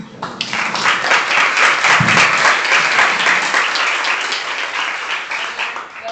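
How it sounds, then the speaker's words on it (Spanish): An audience at a lecture for a gender-perspective course bursts into loud, sustained applause, many hands clapping together for about six seconds before it begins to thin out. "Así que le damos un aplauso."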